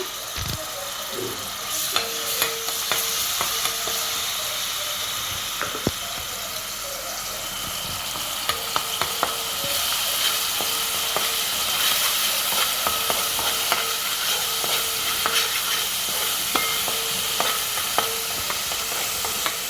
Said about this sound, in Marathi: आता आपण याच्यामध्ये हे हिरवं वाटण घालून घेऊया.